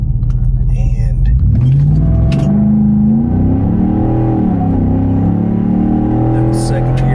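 A 2019 Ford F150 with a Flowmaster American Thunder exhaust accelerates hard through the gears, a loud, close rumbling roar that climbs in pitch, drops at a shift, then rises again.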